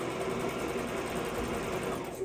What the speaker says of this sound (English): It's still a zigzag stitch